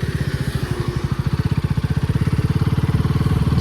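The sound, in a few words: motorcycle engine as the moto vlog ride starts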